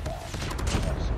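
A sustained automatic spray in Counter-Strike fires as a quick run of close, loud shots lasting about a second.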